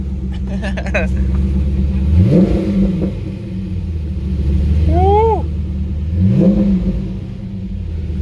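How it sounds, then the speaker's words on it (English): A Corvette engine with an aftermarket exhaust revs hard in loud bursts, exhaust roaring and rising in pitch, with people talking and a cheer over the rumble. "Now that's some exhaust right there."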